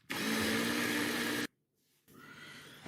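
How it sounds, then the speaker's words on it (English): A kitchen blender whirs steadily as it purées homemade tomato soup, a loud continuous motor drone for about a second and a half that cuts off abruptly, followed by a quieter, duller mechanical hum. "we'll get this all blended together"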